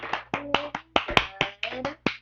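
A small child claps hands about a dozen times in an uneven rhythm, each clap crisp and close, with a faint tonal hum running underneath.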